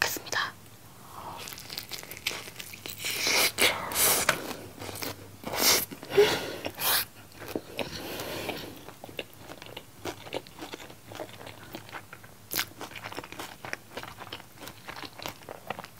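Seasoned spicy fried chicken being eaten with rice, picked up with chopsticks: repeated close, crisp bites and crunches with crinkling and chewing, spread irregularly over a quiet background, with occasional soft speech.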